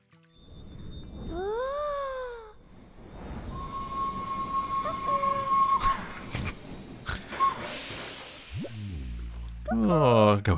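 A game train rumbles along with rising whistle-like tones, clanks and chimes, while a voice talks playfully over it.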